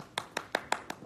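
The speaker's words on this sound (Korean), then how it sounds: "박수." A small group of K-pop singers claps hands during a live stream, about six sharp claps in a steady, even beat, close and fairly soft, with no talking over them.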